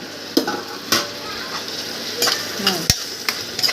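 Chopped green chilli, coriander, crushed garlic and cut tomato frying in a pan with onion, giving a steady close sizzle under repeated scraping stirs of a spoon against the pan, with no talk.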